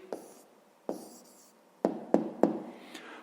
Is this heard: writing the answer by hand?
yes